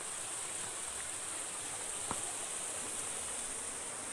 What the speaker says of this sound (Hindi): इधर देख सकते हो, इधर वो नाला के नीचे से पानी आ रही है।